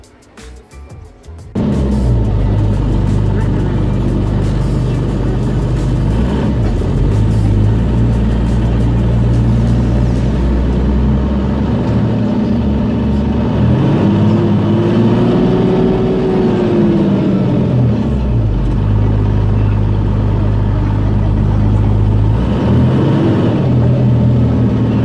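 Large buses pulling out of a university bus station, their engines droning loudly and steadily, with a rising rev midway as one accelerates away.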